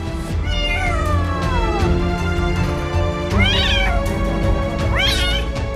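A kitten stuck inside a washing machine cries loudly and insistently, several long, rising and falling meows and wails in close succession, near and alone with no talking.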